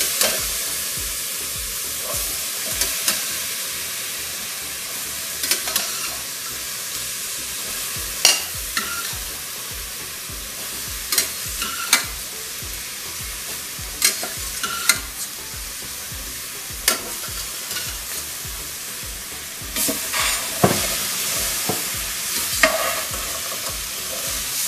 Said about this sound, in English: So we'll put all the chickpeas in there.